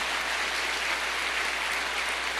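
A church congregation claps for the Lord during a Spanish-language worship service, a steady dense wash of applause filling the whole moment at moderate level, with no voices rising above it.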